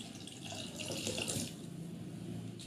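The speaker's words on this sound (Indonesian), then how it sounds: "Tuangkan 700 ml air." Water is poured steadily into a container, a continuous close splashing stream of about 700 ml going in for a chilled drink, with no talking.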